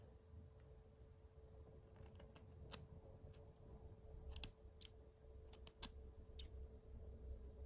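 Hair shears snipping through mannequin hair during a cutting test, several sharp metallic snips scattered over a low steady hum, fairly quiet and close.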